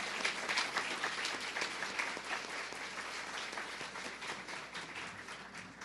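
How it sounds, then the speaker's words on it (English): An audience at a literacy program graduation ceremony gives the graduates a sustained round of applause, dense steady clapping that stays loud throughout, with a faint murmur of voices underneath. "Please give them all another round of applause."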